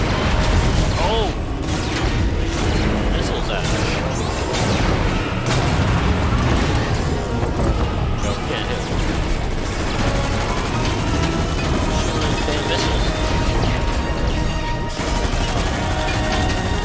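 Missiles firing and exploding during the Fortnite Collision event, a dense loud barrage of booms and rattling blasts over a constant rumble, with excited voices talking over it.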